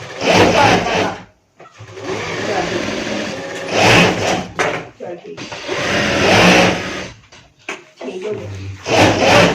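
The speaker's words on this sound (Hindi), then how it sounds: "तो चलें इसको मैं सिलाई लगाता हूँ।" An electric sewing machine stitches fabric for a ladies' frock in fast whirring bursts separated by short pauses, close and loud, with brief quiet gaps between runs.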